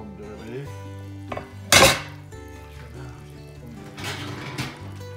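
Osso buco veal shanks stirred in a baking dish, with clinks and scrapes of a utensil against the dish and one louder clatter partway through, under a steady low background hum.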